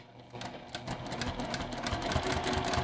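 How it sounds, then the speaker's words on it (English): Sewing machine fitted with a quarter-inch foot running a few stitches and a back stitch on a fabric book sleeve, a steady close mechanical whir with rapid rhythmic ticking that builds slightly and continues without pause. "I'll just do a few stitches and then do a back stitch"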